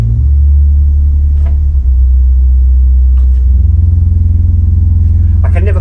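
A deep, sustained pipe organ bass rumble from a harmonic 32-foot stop. It drops to a lower pitch partway through, loud and steady, with faint higher tones above.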